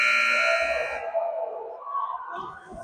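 A loud, steady electronic buzzer blares at a youth ice hockey game, ringing out close for about a second, then fading into rink noise and faint chatter.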